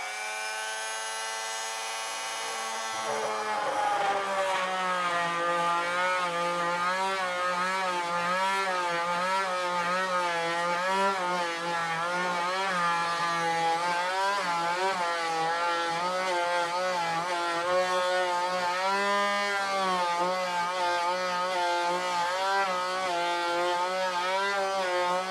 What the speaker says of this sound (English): So we have the electrical box cutout saw installed.